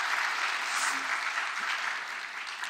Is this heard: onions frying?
no